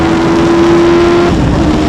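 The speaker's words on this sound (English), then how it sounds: "Screaming through them revs, coming round the corner, pretty much sideways." A Hayabusa-powered race car engine screams at high revs, loud and close with a steady high-pitched whine held near the limiter before a brief dip.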